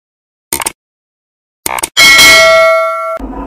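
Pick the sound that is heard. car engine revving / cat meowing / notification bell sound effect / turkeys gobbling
notification bell sound effect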